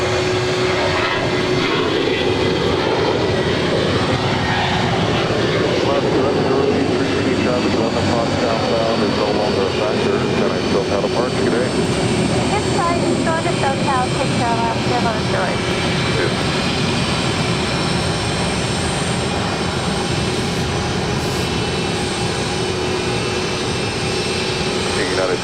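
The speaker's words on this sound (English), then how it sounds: "the Nippon Cargo Airlines 747 now starts her taxi over to 25 left" Nippon Cargo Airlines Boeing 747 taxiing toward runway 25 left at LAX, a steady, loud engine roar and whine sustained throughout, with radio voices intermittently over it.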